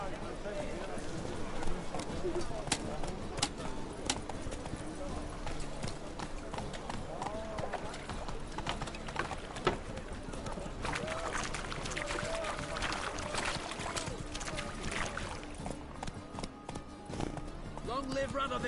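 A horse gallops in The Witcher 3 video game, its steady clip-clop hoofbeats running continuously under background game sounds and voices.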